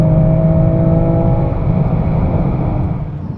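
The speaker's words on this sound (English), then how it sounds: "Right, should have launch engaged. Now go. Off we go. Oh, that's fast. Nice clean launch." A BMW M3 pulling hard from a launch-control start, its engine roaring loudly at first with a strong tonal note, then smoothing into a broad whooshing rush that fades slightly as the car pulls away; no speech.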